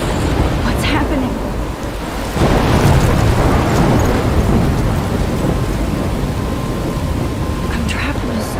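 Thunderstorm in the video game Life is Strange, heavy rain pouring continuously with deep rolling thunder swelling in the middle, loud and close.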